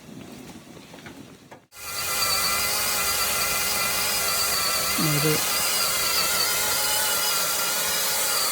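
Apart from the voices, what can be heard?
chainsaw cutting mango tree branches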